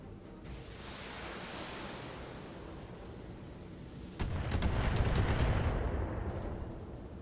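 AC2 autocannons firing in the mech combat game BattleTech: a quick volley of several sharp, closely spaced shots bursts out over a steady rumbling background hum, landing loud and heavy before tapering off.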